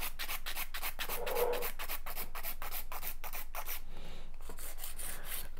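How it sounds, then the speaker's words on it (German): A nail file rasps back and forth over a gel nail, shaping it into a stiletto point in steady, close, rhythmic strokes; no one speaks. "Nach vorne, nach unten feilen, damit das Ganze auch schön spitz wird."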